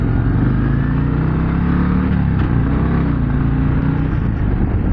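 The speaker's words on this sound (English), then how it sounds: "I love the way this bike sounds. It does sound like a performance hot rod type of bike" A 2024 Harley-Davidson CVO Road Glide ST performance bagger idles with a deep, loud, steady V-twin rumble heard up close, its lumpy low throb continuing without a break and with no talk.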